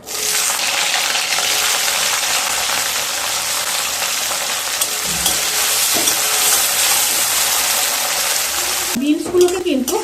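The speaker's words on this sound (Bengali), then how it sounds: "এবার বিনসগুলোকে ভেজে নেব এখানে বিনস আছে দেড়শো গ্রাম" Green beans fry in oil, giving a loud, continuous sizzle for most of the time, with a couple of utensil knocks midway and a brief voice near the end.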